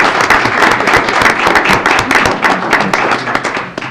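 A council meeting audience breaks into applause at the close of a Springfield, Tennessee Board of Mayor and Aldermen session, a dense, loud patter of many hands clapping steadily throughout.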